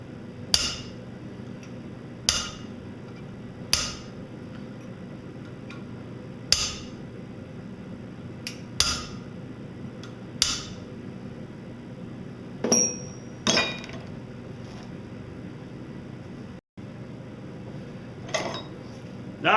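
A hammer chases lines into a hand-forged metal dragon's foot, striking sharp, ringing taps at a slow, uneven pace, roughly a dozen blows with short pauses between, close and alone.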